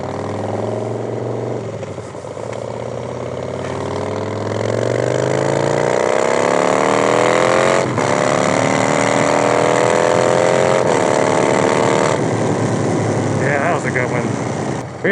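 A loud, close Harley-Davidson motorcycle engine revs up through the gears with clutchless shifting, pitch climbing and dropping at each shift, a steady roaring drone throughout.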